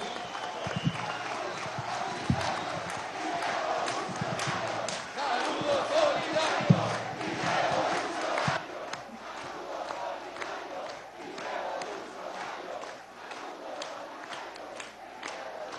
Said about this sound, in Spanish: con el aplauso de los trabajadores